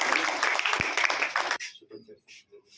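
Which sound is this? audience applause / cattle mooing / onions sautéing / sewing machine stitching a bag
audience applause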